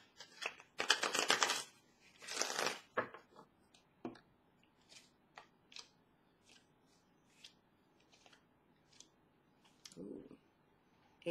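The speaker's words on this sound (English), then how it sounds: "I know that shuffling's really loud." Tarot cards being shuffled by hand, several loud riffling bursts up close in the first few seconds, then softer scattered taps and card flicks against a quiet background.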